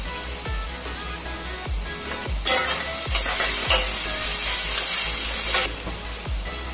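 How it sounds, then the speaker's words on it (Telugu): Sliced onions with ginger garlic paste fry for a chicken curry with cashews and almonds, a steady close sizzle broken by several sharp spoon knocks and scrapes against the pan, brightening and hissing louder midway, with no talking. "వేగుతూ ఉన్నప్పుడే 2 స్పూన్ల అల్లం వెల్లుల్లి పేస్ట్ వేసుకోవాలండి ఈ ఉల్లిపాయలోనే."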